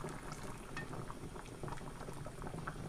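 Hot liquid poured into a hot skillet for pot roast with steak, a faint continuous bubbling sizzle with small crackles and pops throughout, no voices.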